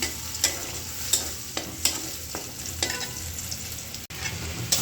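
Onion frying in a pan until reddish, a steady close sizzle with several sharp stirring scrapes and taps spaced through it, no voices.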